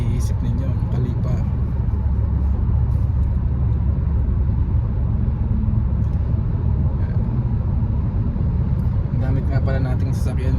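A steady low road rumble fills the inside of a car on the drive home to Khalifa City, constant and fairly loud throughout, with faint muffled voices toward the end.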